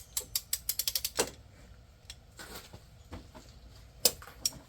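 A ratchet wrench is checked for torque on a head bolt of a 1995 Plymouth Voyager's 3.0 V6 engine; a quick run of close, crisp clicks opens, followed by quieter fumbling and a couple of isolated clicks.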